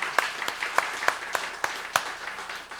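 A church congregation gives scattered, sparse applause during a Sunday morning worship service, a handful of separate claps ringing out in a large room with no voices over them.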